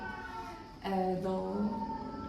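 A blind cat at an animal pound gives one drawn-out, wavering meow close by, rising then sliding down, following a softer, quieter vocal sound before it.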